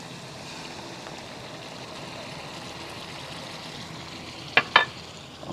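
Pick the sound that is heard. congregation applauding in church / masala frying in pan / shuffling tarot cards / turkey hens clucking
masala frying in pan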